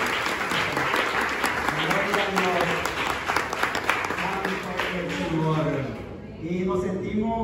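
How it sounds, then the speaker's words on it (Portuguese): A church gathering on a missionary trip in Nicaragua breaks into sustained applause, with voices speaking and calling out over the clapping. "Le damos un aplauso al Señor"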